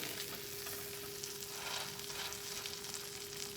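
A keto cheese breakfast patty fries in a pan with a steady, even sizzle close up, unbroken and alone.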